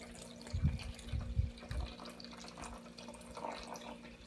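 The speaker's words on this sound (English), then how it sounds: "Now you're going to pour in your vinegar." Vinegar poured slowly into a container holding an egg, a few soft low splashing pulses in the first two seconds, then a quiet liquid trickle fading into room tone.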